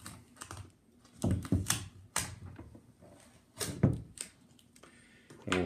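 Adhesive tape is peeled off the old battery of an APC Back-UPS RS1500. It comes in close, rasping tearing bursts separated by quieter handling noises.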